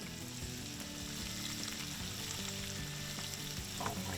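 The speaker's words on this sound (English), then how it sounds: "Then we're gonna add some of this chunky garlic." Chunky garlic sizzles steadily in hot oil in a pan turned down low, a dense continuous crackle with faint stirring, close and fairly loud, no voices.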